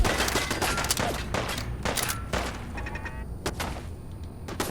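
Turret gunfire in Fallout 4, with rapid bursts of shots that crackle through a dense, noisy firefight and only short gaps between volleys.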